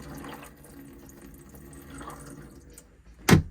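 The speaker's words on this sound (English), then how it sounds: "tip the sink up to allow all the water to drain out" Faint water trickles and gurgles softly from a tipped-up sink in a 2025 Auto-Trail Expedition 67 motorhome, ending in a brief, louder splash as it drains away.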